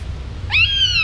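A single high, drawn-out meow from a baby tiger cub in Thailand rises and holds for about half a second, clear and close, over a low steady background rumble.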